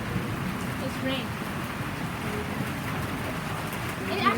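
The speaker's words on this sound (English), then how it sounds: "But how come I can hear like something like on the roof? It's rain." Steady rain drums on a roof during a rainy spell after hail in Parkes, a continuous soft broadband patter with faint birds and brief voices in the background.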